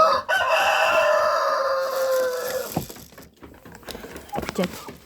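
Backyard chickens cluck and a rooster crows loudly and close in a long drawn call, followed by scattered clucks with someone talking over them.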